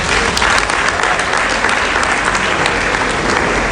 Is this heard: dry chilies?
no